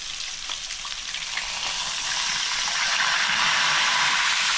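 Chicken fries in hot oil over a strong flame, a dense, hissing sizzle that grows steadily louder and more crackly. Close and continuous, with no voices.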